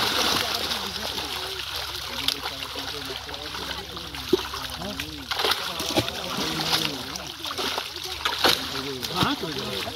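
Water is splashed hard in a pond in repeated irregular bursts over a constant wash of flowing water, with people talking throughout.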